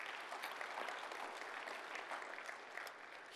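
A church congregation clapping in praise during a service, a dense, steady patter of many hands heard from some distance at low volume, continuous with no talking over it.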